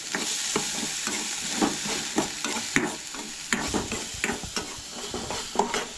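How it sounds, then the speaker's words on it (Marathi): Onion and chillies fry lightly in a pan for Manchurian sauce, a bright steady sizzle with frequent scraping and clinking of a spoon against the pan, close up, no voices. "सो हे सगळे ॲड करून हलकेशें फ्राय करून घेया"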